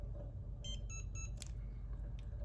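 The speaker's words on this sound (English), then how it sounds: "that 3 beeps right there indicates it is now changed for 2 dogs" Three quick, evenly spaced high electronic beeps from a dog e-collar remote ring out over a low background hum.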